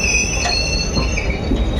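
Steel train wheels squeal loudly and steadily as a train pulls into Jogbani station near the Nepal border, with a continuous high metallic screech over a low rumble of rolling carriages throughout.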